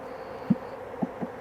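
Honeybees buzzing at an apiary hive, a faint low drone with a few short louder buzzes as single bees pass close by.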